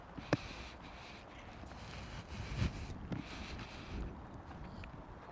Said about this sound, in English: you'll hear a little bit of wind every now and then, especially when it gets gusty